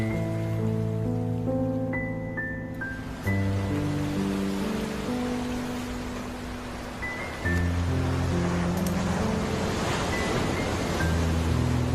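Ocean surf at Jembatan Panjang beach in south Malang washes in as a continuous broad rush, underneath sustained instrumental music tones that play throughout.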